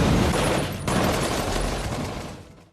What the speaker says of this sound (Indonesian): sembari terus mendapatkan tembakan bertubi-tubi dari Steve dan kawan-kawannya